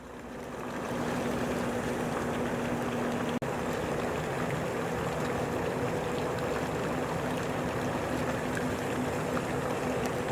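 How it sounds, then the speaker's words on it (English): A fountain beside the Welland Canal pours water in a continuous, fairly faint hiss and wash, with a low steady hum underneath and a single brief click partway through. "That water you can hear behind is the fountain."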